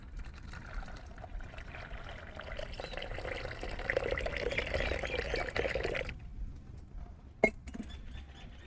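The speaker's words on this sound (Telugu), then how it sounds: "కొద్దిగా వాటర్ కూడా పోస్తున్నాను" Water is poured into a homemade hibiscus plant fertilizer mix in a container, a soft steady trickle for several seconds that stops, followed by a small clink, with no talk.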